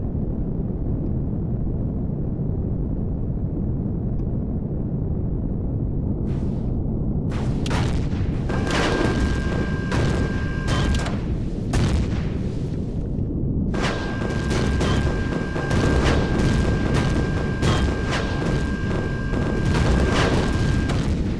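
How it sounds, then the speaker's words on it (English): Explosions in the video game Empyrion on a mountain: a low rumbling bed with scattered sharp booms and crackling bursts from about seven seconds on, some loud and close, sustained blasts layered over a continuous tone, with no talking. "I heard something explode, so I think we got one of them."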